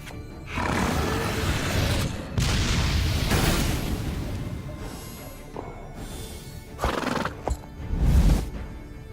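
Roach the horse card in the Gwent video game gives a loud neigh and whinny with clip-clopping hooves, followed by booming game effects and a second burst of noise near the end.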